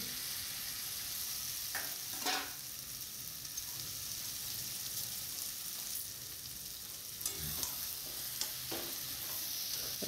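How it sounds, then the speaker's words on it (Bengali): Salt-and-turmeric marinated chicken fries in a pan for a Bengali chicken curry, with a steady broadband sizzle throughout and a few louder bursts of stirring and scraping. No one speaks. "তারপরে দিয়ে দিলাম আগে থেকে মাখিয়ে রাখা নুন হলুদ চিকেন।"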